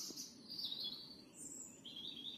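Birds chirp and sing in a quiet woodland on a calm morning, a few bright, high calls trailing one after another over soft background hush, with no voices.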